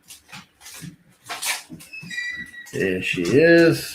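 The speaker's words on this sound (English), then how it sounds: "Up comes my dog. I can hear that now." A dog comes into a house, with whimpering, yipping dog sounds rising near the end, close and fairly loud, while a person talks over the start.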